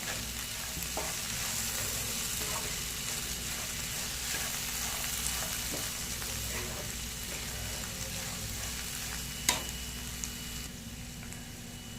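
Black chickpea chutney cooks on a low flame, giving a steady, close frying sizzle that fills the whole stretch, with occasional faint stirring clinks and no talking.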